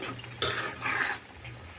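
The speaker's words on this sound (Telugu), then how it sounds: "మనం ఇలా కొంచెం తిప్పుగా ఆయిల్లో కొంచెం ఏగనిస్తే బాగుంటుంది" A spoon stirs tomato pickle frying in hot oil in a pan, making a few soft scraping strokes and a faint sizzle, close and quiet.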